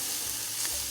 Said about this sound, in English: We are firstly going to fry our onions